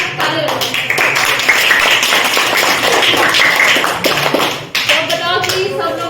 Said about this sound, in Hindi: इसलिए भाई जोरदार ताली बजाओ